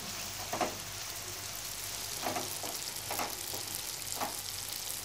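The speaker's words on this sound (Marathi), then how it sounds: "मिरची, थोडीशी कोथिंबीर, आलं लसूण ठेचलेलं, आणि थोडस परतून घ्यायचं आहे." Chili, coriander and crushed ginger-garlic sautéing in a pan for an oyster masala, a soft steady sizzle close by with a few short stirring scrapes spaced through it.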